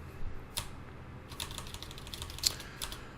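Keys tapped on a computer keyboard while writing code in a text editor, a few separate clicks and short bursts at close range, fairly quiet over a low room hum.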